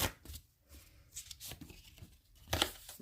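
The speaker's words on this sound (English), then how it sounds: "Sometimes I do shuffle like this way, or I'll shuffle it that way." An oracle card deck is shuffled by hand in a quiet room, giving a few soft papery riffles and crinkly rustles in short bursts, close and faint.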